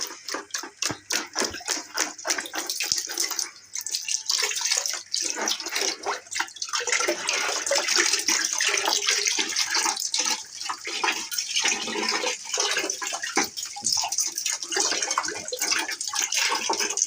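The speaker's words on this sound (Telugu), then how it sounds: "డైరెక్ట్గా ట్యాప్ కింద కూడా పెట్టేయచ్చు దీన్ని." Water runs from a tap over an LG air conditioner filter being rinsed, a steady close splashing rush with irregular spatters and drips as the filter moves under the stream.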